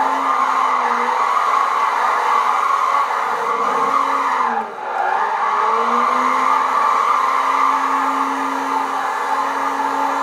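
Nissan 240SX without a turbo drifting in Gran Turismo 5, a steady loud engine drone with sliding tire noise running continuously, briefly dipping midway before resuming, with no talking.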